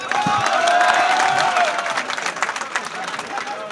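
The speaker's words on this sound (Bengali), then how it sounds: "আপনারা তাদের জন্য একটু হাততালি জানান" An audience at a housing society committee election ceremony breaks into scattered clapping that builds into rapid, crowded applause, with a voice speaking over the start.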